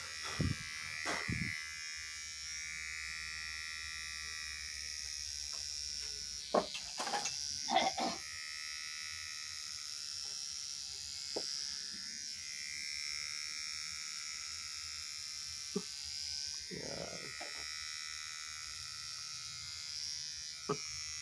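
Electric clippers buzz steadily while shaving a head down to bald, a continuous close hum with brief louder bursts as the blade meets hair.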